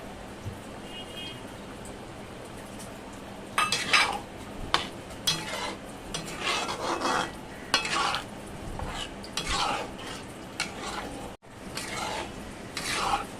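Pumpkin halwa with cardamom powder is stirred in a pan on low heat, a spoon scraping and clinking against the metal in repeated strokes over a faint sizzle, close and fairly quiet with no talk.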